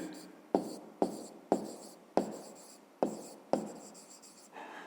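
A pen writes an answer by hand on paper in about seven distinct scratchy strokes, each a sharp onset fading quickly, close and quiet, in a steady rhythm.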